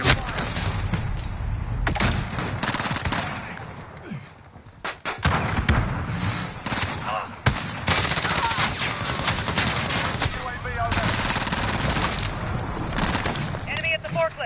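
Rapid gunfire and heavy explosions fill a Call of Duty match, bursts of automatic fire and booms coming close and loud, with voices shouting over the combat.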